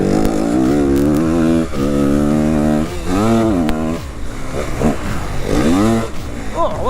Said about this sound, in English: I just think that's what these 4-stroke Yamahas sound like nowadays